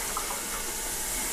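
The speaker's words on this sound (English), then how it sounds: "And a little more water like that." Water pouring into a container while measuring proportions, a brief steady splashing rush that is fairly close and runs alone without speech.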